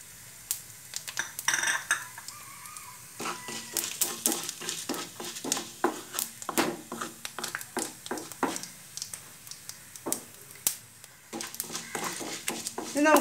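Metal spoon clatters and scrapes against a pan while cumin is stirred into urad dal for a potato masala curry, with irregular close clinks and a faint sizzle beneath.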